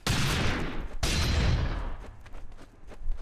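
Rapid gunfire in the Roblox Arsenal shooter game, a close, loud burst of repeated shots with one sharp crack, thinning into scattered quieter pops.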